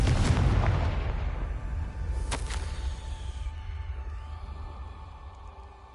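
A Confringo spell explosion in a Hogwarts video game, a loud booming blast at the start with a sharp crack shortly after, then a rumbling decay fading out.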